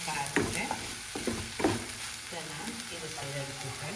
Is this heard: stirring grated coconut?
yes